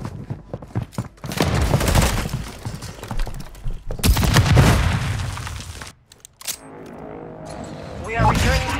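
Rapid gunfire in Call of Duty: Modern Warfare II, loud bursts and booms in a chaotic firefight with voices shouting between volleys.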